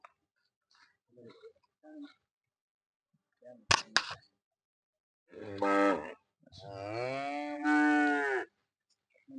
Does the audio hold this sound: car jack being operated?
no